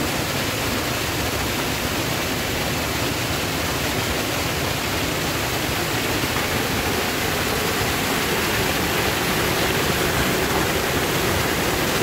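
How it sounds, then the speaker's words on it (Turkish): A small waterfall at the Derekızık Aral trout farm pours steadily, a continuous close rush of falling water that never lets up, with no voices. "Küçük şelaleyi bir de bu açıdan görün."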